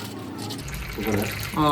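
Water is poured from above into a small glass for a baby rabbit, outdoors. A short, splashy trickle comes through close up, with people talking over it.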